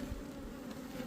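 Steady low drone of honeybees buzzing around an open hive during a beekeeping inspection, close and continuous with no pauses.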